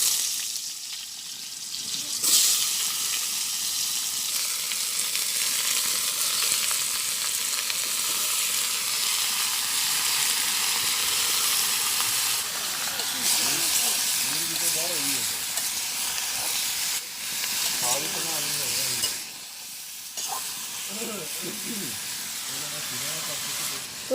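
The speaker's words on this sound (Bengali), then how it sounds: "তো তেল গরম হয়ে গেছে, আমি এখন লাউ দিয়ে দিই" Chopped bottle gourd sizzles and hisses in hot oil in a village kitchen, a steady close frying crackle that shifts as the pieces are stirred, with a voice speaking over it.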